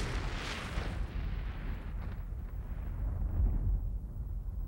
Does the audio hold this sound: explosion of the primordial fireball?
yes